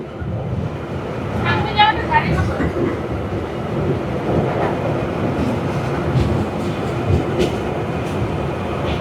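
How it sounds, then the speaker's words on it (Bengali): A metro train rumbles steadily along the track, a loud, continuous low roar with clatter, while people talk nearby. "আমরা এখন আছি মেট্রো ট্রেনে।"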